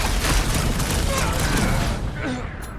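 Rocket fires a fireworks attack in the Guardians of the Galaxy video game, a dense rattling fusillade of rapid blasts and crackles that fades near the end, with voices shouting over it.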